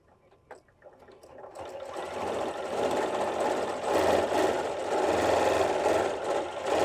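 A Janome 9480 or Continental M8 sewing machine does free-motion stitching, its close mechanical whir rising from a quiet start into a fast, steady rhythmic hum with rattling vibration, with no voices.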